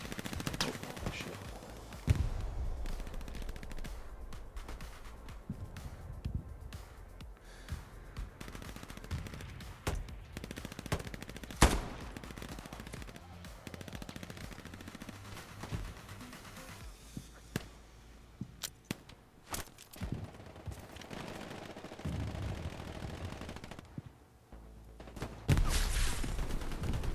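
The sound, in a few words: machine gun fire in video game Hell Let Loose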